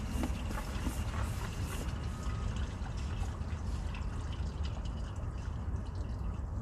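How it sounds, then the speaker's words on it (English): Water rushing down a sewer line, a steady broadband wash and trickle that runs continuously at a fairly faint level, with small splashes and drips throughout and no talking. "There's a big rush of water come down the sewer line here all of a sudden."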